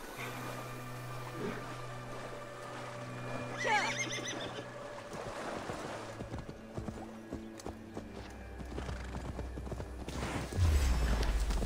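Horse in the Assassin's Creed Valhalla video game, swimming and travelling across land and water: rhythmic hoof clip-clops with a whinny and splashing water under game ambience, close and moderate in level.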